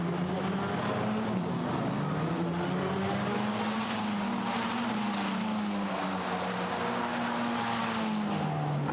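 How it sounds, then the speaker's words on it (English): Formula Renault Eurocup race cars accelerate along the straight at Monza, a loud, steady engine whine rising and shifting in pitch over constant trackside noise, with no talking. "Fernandez accelerates up towards the Curva Grande."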